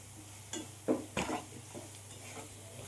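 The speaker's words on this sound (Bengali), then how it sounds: "পেঁয়াজ আদা রসুনের সঙ্গে মশলাটা ভালো করে মিশিয়ে নেব" A spoon stirring paneer masala spices with onion, ginger and garlic in a pan, with a few soft scrapes and clinks against faint background hiss, quiet and close.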